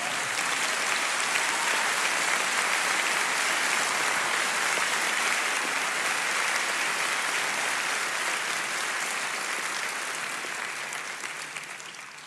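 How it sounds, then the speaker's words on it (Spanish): A church congregation claps for God in dense, sustained applause that fills about twelve seconds at steady strength before easing slightly at the end, with no voices standing out. "Dale un aplauso a Dios."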